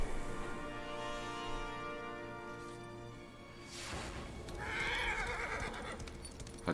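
In the Darksiders 3 video game, a horse gives a loud, drawn-out whinny, followed by a brief burst of hoof and crash-like noise, with no talk over it.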